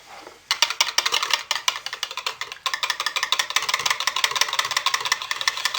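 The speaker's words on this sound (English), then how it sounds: "I'm going to hit them all with a stick blender" A handheld blender whirs in rapid pulsing bursts, close and steady, briefly pausing mid-way before starting up again and running continuously.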